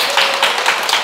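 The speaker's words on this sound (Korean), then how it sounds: "큰 박수 부탁드립니다." A live lecture audience bursts into loud, sustained applause, dense overlapping hand claps forming a steady broadband roar that pulses slightly throughout, close and filling the space with no voices over it.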